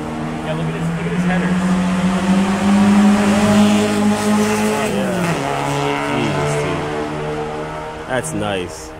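A turbocharged car engine in the Hill Climb Racing 2 video game drones loudly and steadily, its pitch sliding and shifting as it revs, with a voice talking over it.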